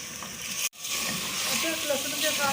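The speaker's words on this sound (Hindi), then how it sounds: "अदरक लहसुन के साथ भूनते हुए 3 से 4 मिनट हो चुके हैं" Mutton sizzling and frying with ginger and garlic for nihari, a steady close crackle with a brief dropout partway through.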